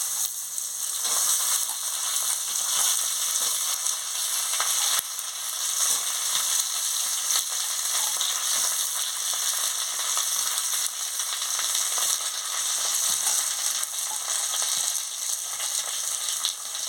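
Eggplant and potato pieces fry in hot oil with dried chilli, a steady dense sizzle that stays loud and close throughout, with faint stirring scrapes underneath and no talking.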